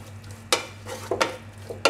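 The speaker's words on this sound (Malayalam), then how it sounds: "ഇനി നന്നായിട്ടൊന്ന് മിക്സ് ചെയ്യാം." A spoon stirs a carrot pachadi mixture in a pan, giving three or four brief scraping bursts over a low steady hum, close and fairly quiet.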